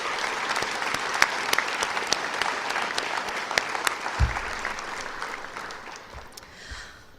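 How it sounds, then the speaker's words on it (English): Applause for a school jazz band at an awards night, a sustained crowd clapping that fades slightly toward the end, with a brief low thump partway through. "applause for the BMR Jazz Band."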